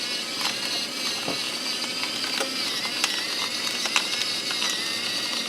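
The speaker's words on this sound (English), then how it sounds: "my pepper grinder puts it out slow" Pepper grinder cracking black pepper, a steady close ratcheting crunch with small clicks throughout, loud and alone.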